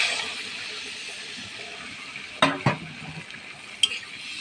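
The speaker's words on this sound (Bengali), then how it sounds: "এবার দিয়ে দিচ্ছি জল।" Water poured into a hot pan of sautéed boiled potatoes gives a broad sizzling hiss that fades gradually. A few sharp scrapes and clinks of a utensil against the pan follow.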